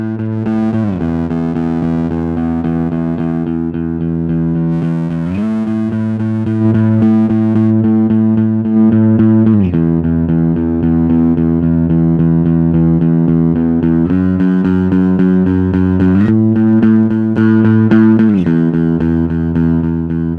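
A heavily distorted bass guitar with parallel distortion plays sustained notes, changing pitch every few seconds, loud and continuous with a gritty, saturated tone.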